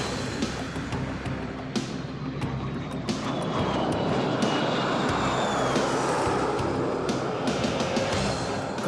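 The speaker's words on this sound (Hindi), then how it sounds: "फ्लाई पास्ट में वायुसेना के 29 लड़ाकू विमान, 8 मालवाहक विमान, 13 हेलीकॉप्टर और एक धरोहर विमान सहित कुल 51 एयरक्राफ्ट" Indian Air Force jets and aircraft in a Republic Day parade flypast over Delhi roar overhead, a loud sustained engine rumble with rising whooshes as planes pass, over a background of open-air crowd noise.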